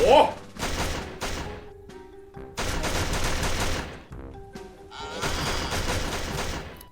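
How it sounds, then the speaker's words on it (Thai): Uzi fire in the video game ARM Lastwar: loud, sustained rapid automatic bursts with brief pauses between volleys, close and dense, with a voice speaking over the shooting. "แต่รอบนี้กูมาพร้อมอุซี่เบบี"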